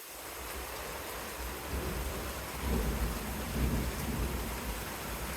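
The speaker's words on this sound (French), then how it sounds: "Ça tonne bien." Thunder rolls through a violent storm, deep rumbling swells rising and fading for several seconds over the constant hiss of heavy rain pouring on surfaces nearby.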